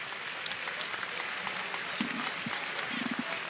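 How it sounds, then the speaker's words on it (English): A basketball arena crowd gives a distant, fairly faint round of applause, a steady wash of clapping beneath murmuring crowd noise with a few short brighter tones. "Well-deserved round of applause from the folks at the Thomas and Mack."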